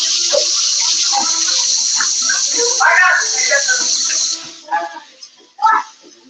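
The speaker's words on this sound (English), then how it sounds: "I'm gonna wash my hands real quick." Hands are rinsed under a running kitchen tap, a steady loud hiss of water with splashes, then the flow stops and scattered wet clatters and a few brief sounds follow.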